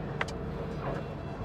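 An air-cooled Porsche 911 Dakar build engine runs on a dyno, a steady, moderately loud mechanical drone holding level throughout, with a short sharp tick near the start.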